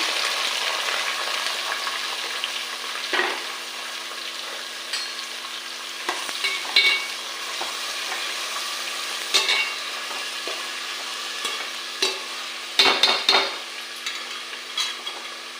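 Onion, green chili and tomato fry in a pan with a constant bright sizzle, broken by occasional stirring scrapes and spatula clacks, close up and with no one talking.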